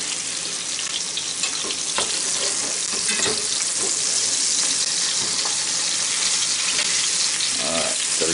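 Pork chops fry in a cast iron skillet with a loud, steady, crackling sizzle that fills the whole stretch, sometimes broken by faint scrapes or stirring sounds, and no talk.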